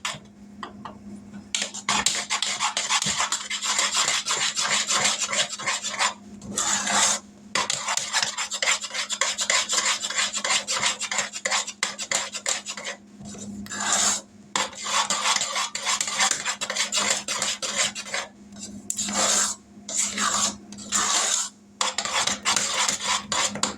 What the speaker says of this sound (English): Get all that marshmallow cream stirred in and melted.